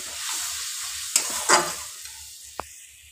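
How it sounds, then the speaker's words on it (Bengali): Spice paste fries and is stirred in a pan for potato and pointed gourd curry, giving a steady sizzle with low scraping strokes, a couple of brief louder hisses and one sharp tap of the spoon. "মশলাটাকে ভালো করে কষিয়ে নেব।"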